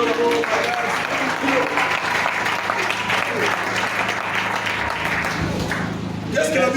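A church congregation applauds steadily and loudly through a sermon break, with dense sustained clapping and some voices mixed in.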